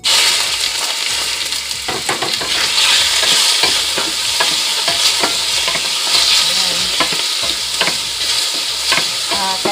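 Chicken frying in spray oil in a hot pan for ramen, a loud, dense sizzle with busy tapping and scraping from a spatula throughout, close up with no speech.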